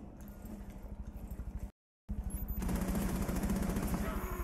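Rapid automatic gunfire in the video game Rainbow Six Siege, a steady fast rattle of shots that stops for a brief silence and then resumes louder and denser.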